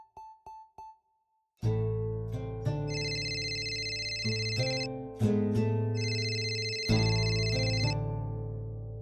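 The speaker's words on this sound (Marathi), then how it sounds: "राधा उचल ना यार फोन" A phone rings loudly in repeated electronic bursts, a melodic ringtone cycling twice after a few short beeps, with no one speaking.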